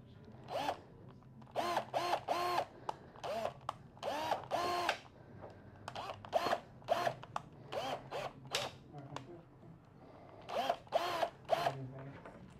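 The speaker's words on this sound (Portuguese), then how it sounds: "E agora vou parafusar." A power drill drives screws into the wooden slats of a handmade clothes drying rack, sounding as a string of short, separate whirring bursts of varied length with brief pauses between them, close and moderately loud, with no talking.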